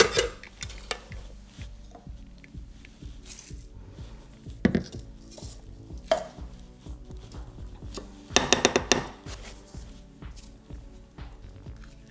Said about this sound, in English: It says slightly whisk it, so I gotta do that myself and not let the machine do it.